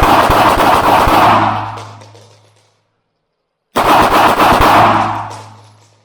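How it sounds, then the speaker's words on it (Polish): Two loud, sharp gunshots from a Beretta pistol fired one-handed, each a close crack followed by a long ringing decay into silence, spaced a few seconds apart. "Jedną ręką strzelając, to był drugi strzał pierw, jedną ręką."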